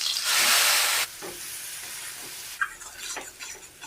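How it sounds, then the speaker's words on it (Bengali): Jackfruit and potato pieces fry in hot oil with turmeric, a loud bright sizzle that bursts up at first and then settles into a steadier crackle with a few stirring scrapes. "এই তেলের মধ্যে আমি এখন এসবটা ভেজে নেব"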